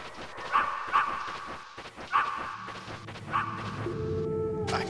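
Guard dogs in Metal Gear Solid bark several times at irregular intervals over a busy game soundtrack and effects, the sharp barks standing out clearly before a rising electronic tone at the end.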